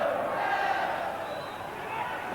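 Football crowd at Liverpool v Arsenal chanting and clapping in full voice from behind the goal, a dense, steady roar of massed voices held at an even level throughout.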